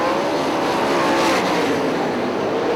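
Sprint cars racing on the dirt track at Hartford Speedway Park, a loud, steady, high-revving engine roar filling the whole moment as the pack runs close together.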